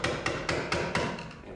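Metal rings as a screwdriver is struck against a notch in a nut on an electrical box to tighten it, five sharp evenly spaced taps close by, followed by two softer ones.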